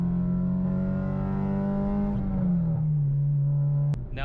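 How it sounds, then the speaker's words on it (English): Acura RSX with a custom exhaust pulling in second gear through the VTEC crossover, a loud, close engine drone holding a steady pitch, then dipping slightly lower before cutting off sharply near the end. "I just kind of like went into 2nd gear a little slowly just so you could hear that VTEC crossover"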